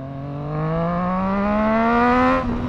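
A Triumph Street Triple motorcycle's 765cc, 130-horsepower engine is revved once, its pitch climbing smoothly over a couple of seconds before the throttle snaps shut; the sound is close and loud.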